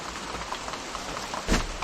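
Heavy rain pounds steadily on surfaces nearby, a dense continuous hiss with a brief louder burst near the end.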